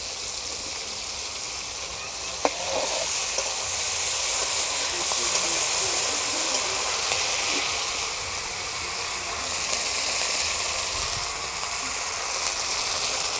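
Ginger paste sizzling in a frying pan, a steady close hiss and crackle that holds evenly throughout, with a single sharp clink early on.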